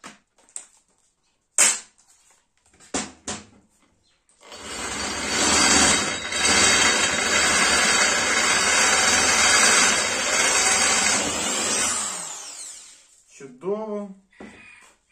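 A Sturm ID21105KP 1050 W impact drill runs at low speed in a sustained steady whir for about seven seconds, preceded and followed by brief clicks and handling noises, with a short voice near the end.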